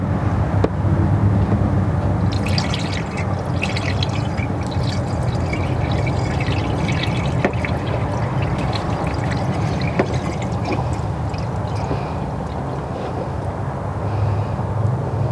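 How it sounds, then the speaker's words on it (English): Green universal 50-50 coolant mix poured into the cooling system of a Crown Vic P71 after a thermostat replacement, giving a continuous gurgling, splashing flow close by with a low background rumble and no talk. "I'll pour my 50-50 mix through here."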